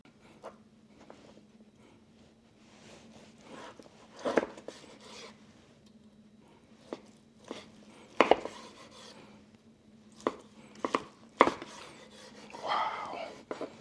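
Knife slicing through smoked foil boat ribs off a drum smoker, with several sharp cuts and thuds against a board scattered over soft background, close up and moderately loud.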